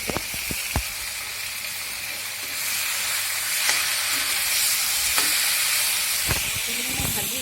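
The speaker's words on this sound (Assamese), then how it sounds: "সেইখিনি এতিয়া মই ভাজি হৈ গৈছে" Mutton pieces fry in a hot pan with a steady sizzling hiss, punctuated by several sharp metallic clanks and scrapes of a stirring utensil, heard up close.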